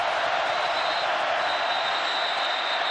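A large football stadium crowd at a 2015 Florida versus LSU college game roars steadily in a dense, unbroken wash of noise aimed at Florida quarterback Treon Harris.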